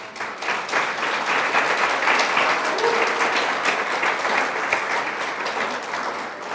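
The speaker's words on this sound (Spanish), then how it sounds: "¿Por qué no das un fuerte aplauso a Dios?" A church congregation at a Spanish-language service bursts into loud, sustained applause. The clapping stays full and even for several seconds before tapering slightly at the end.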